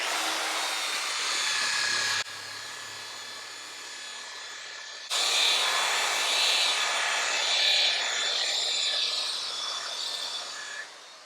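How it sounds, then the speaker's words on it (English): Power buffer with a fine red pad polishing the door of a Vendo 56 Coca-Cola vending machine, a continuous close whirring hiss that shifts in pitch partway through as the pad is pressed and moved. "We're gonna switch up, go back to the buffer. I'm gonna go to a little finer pad, go to our red one"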